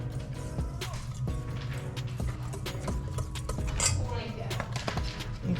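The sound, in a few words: whisking baking soda and salt into dry ingredients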